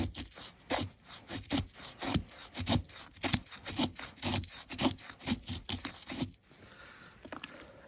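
An Adler Yankee hatchet shaves feather sticks from a piece of wood in a steady run of short, close scraping strokes, one after another at an even rhythm.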